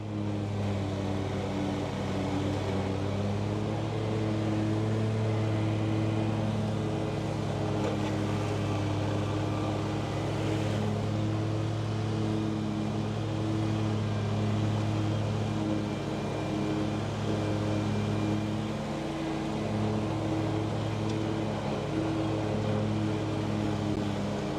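A ditch-mowing machine's engine drones steadily at moderate distance for the whole stretch, with a constant low hum and only slight shifts in pitch.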